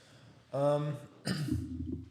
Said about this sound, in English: I do cough a lot because I have lung problems from Afghanistan